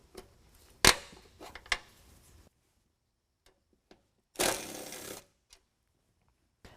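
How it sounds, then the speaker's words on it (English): Clicks and ratcheting of a 10mm wrench loosening a headlight bolt on a 2019 Ram 1500, a few sharp metallic ticks, then a brief scraping burst and faint taps, close by with no talk. "pull out this plastic push pin and then also remove this bolt using a 10mm"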